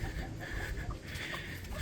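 Backyard chickens clucking in a muddy, partly roofed pen after rain, with soft overlapping clucks and calls close by against a busy, noisy background.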